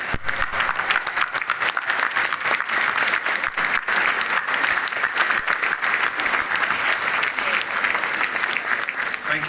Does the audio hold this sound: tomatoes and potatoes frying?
no